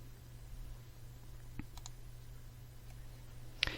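Mouse clicks selecting presentation options in a quiet room, a faint click near the middle and a sharper, louder click at the end over a low steady hum.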